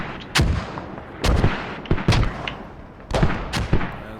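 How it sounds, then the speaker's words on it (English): Mortar rounds firing in the tactical shooter game Squad during a competitive match: four heavy, booming blasts with rumbling tails, spaced about a second apart, loud and close with no talking. "So a bit of a mortar duel going on right now."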